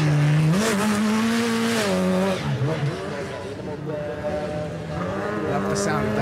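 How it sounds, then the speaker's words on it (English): An RX Supercar Lites rallycross engine roars loudly at the Race of Champions final, revving with gear changes that shift the pitch, while a commentator talks over it. "Love the sound of that RX supercar lights engine."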